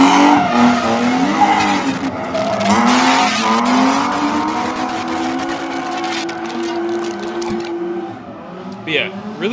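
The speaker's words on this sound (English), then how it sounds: "This is about drifting right now." A car drifting at Lead Foot City squeals its tires in a long, loud, wavering screech under engine revving, fading toward the end with a short burst of other noise.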